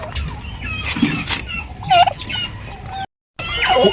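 Several turkeys gobble in bursts, close by, with clucking fowl and a short gap of silence before the gobbling resumes.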